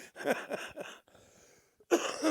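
A man with a lingering illness coughs and clears his throat in a few short, close bursts, separated by a brief quiet pause.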